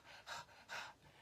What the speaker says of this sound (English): As he's panting from running down and running up 4 flights of steps.